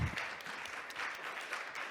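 Brief, faint burst of audience applause closing a talk on Gestalt therapy, soft steady clapping heard from a distance with no voices over it.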